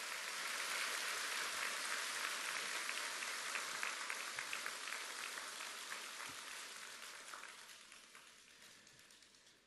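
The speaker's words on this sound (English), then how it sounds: "I would like to ask a little applause to congratulate him for these Circle Awards." Sustained applause from a large audience at a university commencement ceremony, steady dense clapping throughout that slowly tapers off toward the end, heard alone without talk.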